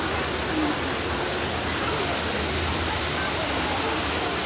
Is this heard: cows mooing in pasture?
no